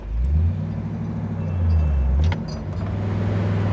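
A 1968 Pontiac GTO convertible drives along with a steady, deep engine rumble that swells twice as it accelerates, heard from inside the car with no talking.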